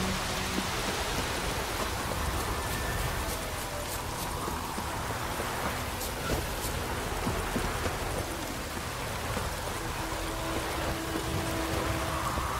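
Rain falls steadily in the video game The Witcher 3: Wild Hunt, a soft, even hiss of drops that runs unbroken and fairly faint with no voices.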